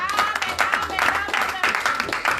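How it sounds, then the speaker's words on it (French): Congregation at a church sermon applauding in praise of the Lord, a dense sustained stretch of clapping with uneven swells, fairly loud and close, mixed with voices. "Acclamez d'abord pour la gloire du Seigneur"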